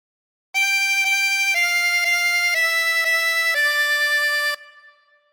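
Twenty-hole tremolo harmonica playing a descending phrase of Twinkle Twinkle Little Star, paired reedy notes with shimmering tremolo, loud and close, played alone before a short decay.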